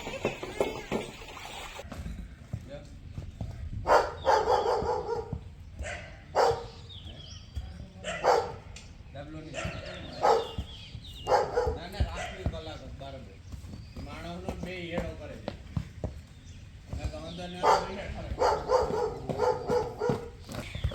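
Two tied-up dogs bark in scattered bursts over a busy outdoor scene, with people talking nearby and other animal and footstep-like sounds in the background.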